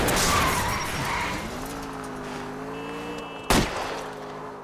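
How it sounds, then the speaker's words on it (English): A car in a police driving video game tears along with a sustained engine drone and tyre noise, and a sharp gunshot-like crack lands near the end, loud and close. "I'll try to shoot out his tires."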